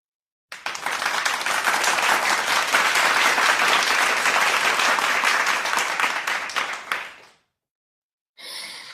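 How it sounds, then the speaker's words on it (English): A round of applause from a studio audience rises quickly and holds as steady, dense clapping for several seconds before fading out, followed by silence and a brief further burst. "Yes, that is a round of applause."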